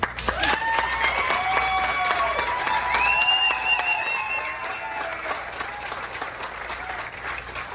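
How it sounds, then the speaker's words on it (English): A room full of people applauding at a 50th-anniversary presentation, steady clapping with a few voices and a cheer mixed in, moderately close. "I want to give her a big round of applause."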